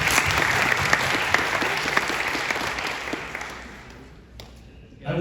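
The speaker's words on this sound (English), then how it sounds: "ask for a round of applause for Mr." A lecture audience at a university in Egypt breaks into loud, sustained applause close by, with dense clapping that carries on for several seconds before fading out.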